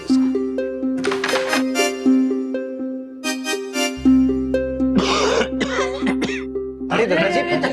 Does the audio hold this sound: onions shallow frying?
no